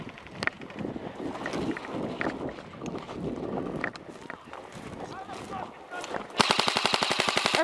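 Airsoft gunfire during a field game: a fast burst of evenly spaced rapid shots near the end, following chaotic shouting and movement by several players.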